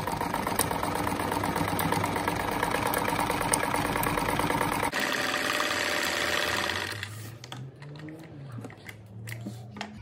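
A sewing machine stitching fabric scraps into a patchwork rug runs in a fast, steady whir for about seven seconds, then stops, leaving quieter handling noises.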